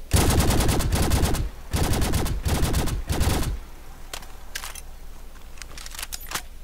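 A Watts laser rifle firing in Fallout 4, four rapid bursts of crackling shots in quick succession, then quieter clicks and mechanical handling sounds.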